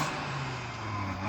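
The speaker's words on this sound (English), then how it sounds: "let's rev up the RS3 and experience some more soft limiterage" Audi RS3 engine held against its soft limiter in a snow dome, a steady close droning rev with a constant hum, fairly faint and without talk.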